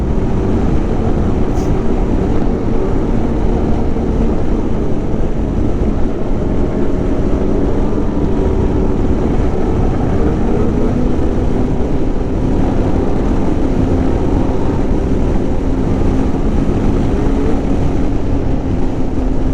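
A 2020 Polaris Indy XC 129 snowmobile on trails in Pittsburg, NH, its engine a loud, steady, unbroken roar heard up close from the rider's seat for the whole stretch, with no talk.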